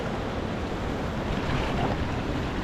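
Sea surf breaking against coastal cliffs below a slippery rock fishing spot, a continuous loud roar of washing water with some wind buffeting the microphone and no voices.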